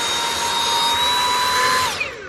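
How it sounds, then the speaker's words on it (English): A small handheld vacuum runs over cut fur fabric for a quilted Santa hat, giving a steady, close, high motor whine that winds down near the end. "I just have a little handheld vacuum."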